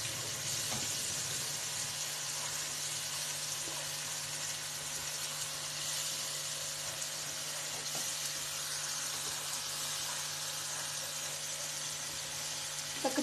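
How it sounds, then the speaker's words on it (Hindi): Spices and tomato sauté in a hot pan with a steady, even sizzle that runs unbroken and fairly close, with no talking over it. "अब इसको थोड़ा सा भूनेंगे। ताकि जो मसाले डाले हैं उनका कच्चापन और टमाटर का कच्चापन ख़त्म हो जाए।"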